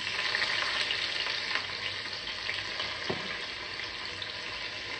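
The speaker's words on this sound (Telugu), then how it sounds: "సో ఇక్కడ నేను పోపు వేస్తున్నానండి." Spice tempering crackles and sizzles in hot oil for sambar, a steady dense frying hiss close by with a brief sharp pop near the middle, no voices.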